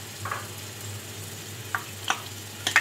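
Almonds frying in desi ghee in a frying pan make a steady, soft sizzle, with a few light clicks as they are stirred and no talk.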